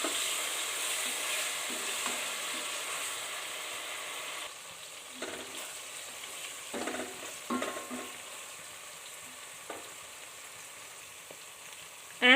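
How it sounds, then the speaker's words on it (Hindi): Chopped onion fries in a pan for dhaba-style mash daal, a soft continuous sizzle with occasional stirring scrapes and clinks, the sizzle dying down midway before a sharp clatter at the end. "मैंने मीडियम साइज़ का अनियन लेके उसको चॉप कर लिया है। इसको ट्रांसल्यूसेंट होने तक हम लोग कुक करेंगे"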